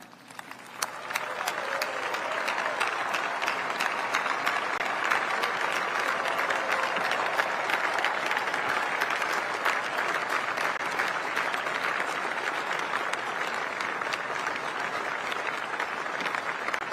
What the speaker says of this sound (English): join me in another round of applause for the outstanding